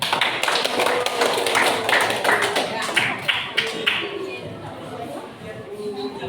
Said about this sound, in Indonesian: tepuk tangan dulu untuk kelompok ini.